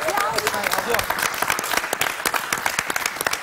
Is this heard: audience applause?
yes